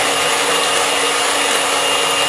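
An electric mixer whirs steadily and loudly while beating mini terang bulan batter, a dense, unbroken motor buzz with no pauses or talking.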